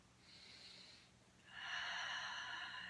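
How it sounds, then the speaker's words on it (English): Slow, steady breaths during a lower-back and hamstring stretch: a soft airy inhale, a pause, then a longer, louder exhale, close to the microphone with no voices. "Then just continue a nice steady breath"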